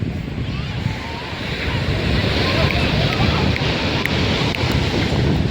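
Sea waves and strong wind at a beach, a steady roar of surf mixed with wind buffeting the microphone, growing slightly louder and continuing throughout.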